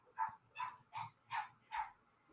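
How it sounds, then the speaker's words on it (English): Five evenly spaced, fairly faint dog barks in a steady rhythm, heard alone without talking. "There's a dog."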